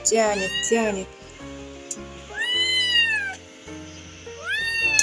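A Far Eastern cat meows loudly in several drawn-out, rising and falling cries, with a kitten nearby and a person talking between the calls.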